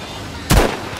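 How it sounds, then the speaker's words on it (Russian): A single sharp gunshot bursts out in Battlefield V gameplay, a near, loud crack with a brief low tail against steady background noise. "Там выстрелили."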